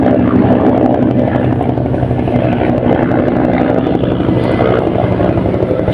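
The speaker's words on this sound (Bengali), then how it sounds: "সকাল থেকে বাংলাদেশ বিমান বারবার ঘোরাফেরা করছে" A steady, loud whirring drone of Bangladeshi aircraft engines circling overhead, continuous and unbroken throughout, with no voices.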